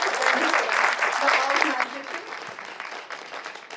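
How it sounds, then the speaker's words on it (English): Loud, sustained applause from an audience cheering volunteers at a seniors' friendship hub closing ceremony, dense clapping that stays strong for about two seconds before thinning slightly. "let's have a big claps for them all volunteers"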